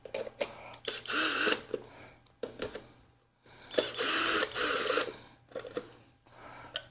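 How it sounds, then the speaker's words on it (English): The air filter cover is pried off a McLane edger with close plastic clicks and scraping rattles, in two bursts of handling separated by short pauses. "I'm going to go ahead and just remove the air filter cleaner"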